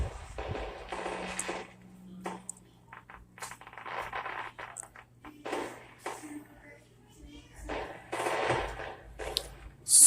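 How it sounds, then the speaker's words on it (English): Fourth of July fireworks pop and crackle in irregular bursts, sharp reports scattered over about ten seconds with a faint background hum, and people talk in between. "Whoa, more fireworks."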